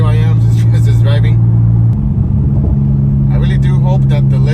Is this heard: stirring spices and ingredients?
no